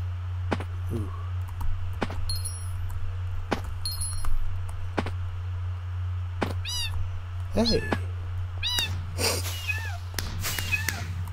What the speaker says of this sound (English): Is that an exploding cat? That's actually an exploding cat.